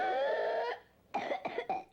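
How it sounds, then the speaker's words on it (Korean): A long harsh cough or wheezy vocal strain from a whooping cough (pertussis) fit, a pause, then three sharp hacking coughs in quick succession, close and loud. "이렇게 발작적인 기침이 계속 나오다가"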